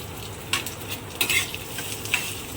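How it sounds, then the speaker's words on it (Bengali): Coconut, cashews and raisins fry in ghee with a soft, steady sizzle, broken by a few sharp stirring scrapes and clinks of a utensil against the pan; no one speaks. "আমার নারকেল কাজু কিশমিশ ঘি দিয়ে ভাজা হয়ে গেছে"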